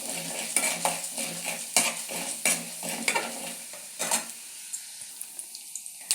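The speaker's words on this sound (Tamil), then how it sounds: "இப்போ கடலப்பருப்பு, உளுந்த பருப்பையும் போட்டுக்கலாம்." Chana dal and urad dal frying in hot oil, a soft steady sizzle under repeated scraping strokes of a spoon against the pan, the stirring thinning out toward the end.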